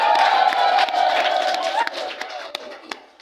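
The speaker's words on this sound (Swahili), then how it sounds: "Vigelegele kwake sasa jamani." Wedding guests ululating at a Tanzanian wedding, high trilling voices rising together with shouts and cheers, loud at first, then fading into scattered calls and claps.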